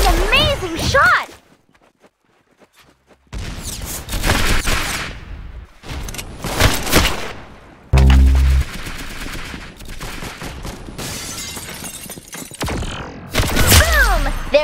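Video game gunfire comes in loud bursts of rapid shots and fusillades with whooshing and mechanical clatter, broken by brief silences, while an excited voice talks over parts of it.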